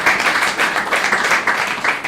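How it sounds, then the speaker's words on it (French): An audience applauds during a live French tongue-twister show, with steady, dense clapping that stays loud and close for a couple of seconds. "on applaudit"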